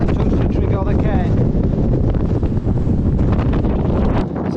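Strong wind buffets a microphone on an exposed Scottish Munro summit by a cairn and trig point, a loud, steady roar with gusty fluctuations throughout, some faint voice mixed in.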